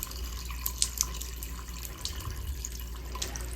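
Leftover water drains from an opened Moen 1222 Posi-Temp faucet valve, a faint trickle with scattered small drips and splashes close by and nobody talking.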